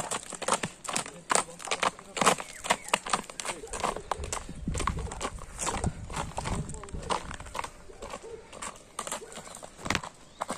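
A horse walking at a buy-kazakh (kokpar) setting, hooves clip-clopping in a steady rapid series of close knocks, with occasional whinnies and people talking over it throughout.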